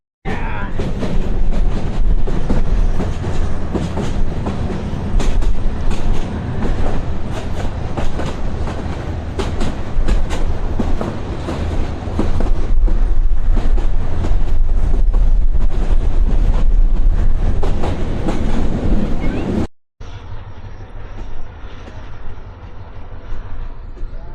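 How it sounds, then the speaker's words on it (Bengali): A passenger train pulls out of Kholahati railway station between Dinajpur and Lalmonirhat and runs on, loud close rumble with rhythmic clickety-clack of wheels over rail joints, then a quieter stretch after a brief cut. "আমাদের ট্রেনটা এখন খোলাহাটি রেল স্টেশন থেকে ছেড়ে দিল"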